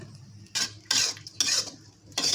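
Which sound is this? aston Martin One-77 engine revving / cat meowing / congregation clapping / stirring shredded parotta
stirring shredded parotta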